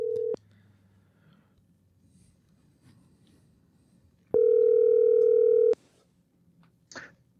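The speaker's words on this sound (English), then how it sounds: "Pastor Jonathan is getting a call about this hot take." A telephone call signal: a loud steady electronic tone cuts off abruptly, then after a quiet gap a second long sustained tone sounds for over a second, followed by a faint short noise.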